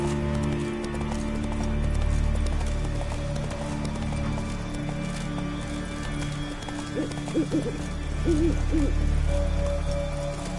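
Roach the horse gallops in The Witcher 3, a rhythmic clip-clop of hooves over a low rumble, with brief whinny-like tones and a steady game background.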